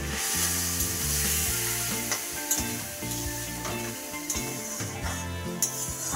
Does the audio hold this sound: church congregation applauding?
no